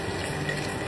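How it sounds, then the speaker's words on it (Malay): Water pours into a cooking pot in one brief, steady rushing splash, close and fairly loud, with no voices. "Dan air sikit je."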